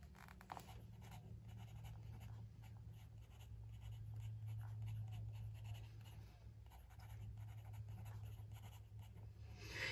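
Lamy Safari fountain pen loaded with Lamy Dark Lilac ink writing on smooth 120gsm Leuchtturm1917 notebook paper, a soft, continuous close-up nib scratch with faint strokes over a steady low hum.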